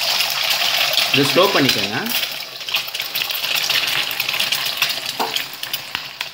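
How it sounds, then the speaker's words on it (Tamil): Eggs cracked and poured into hot oil for chicken fried rice, giving a steady loud sizzle and frying hiss throughout, with a voice speaking briefly over it. "எண்ணெய் வந்து சூடானதும் நம்ம முட்டையை வந்து உடச்சி ஊற்றிக்கலாம்."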